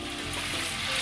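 Chicken pieces frying in a hot pan with ginger garlic paste give off a steady, dense sizzle that holds at a constant level throughout, with no voices.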